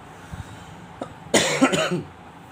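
A single sharp, close cough with a brief rough burst, preceded by a couple of faint small sounds in an otherwise quiet room.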